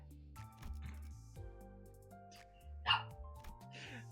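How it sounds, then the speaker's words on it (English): A pet dog barking and whimpering indoors at night, wanting to be let outside, with several short yips and barks in close succession under a background of game music. "that's my dog saying, yeah, I don't disagree, but I still want out"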